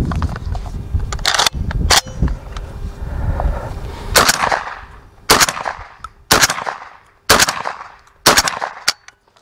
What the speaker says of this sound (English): I'm starting off on the Winchester 1400. I'm gonna start off on gas setting one.